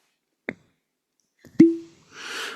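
A cork pops from a bourbon whisky bottle with one sharp, close plop and a brief resonant ring. A small tap comes before it, and a soft hiss of pouring or fizz follows.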